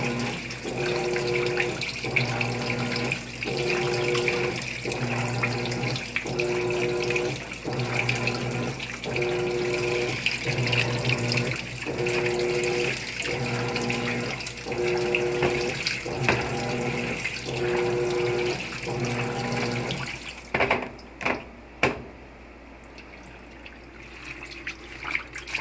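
Cold water runs steadily into a washing machine as it fills, a continuous rushing flow with a regular pulsing rhythm, stopping near the end followed by a few clunks.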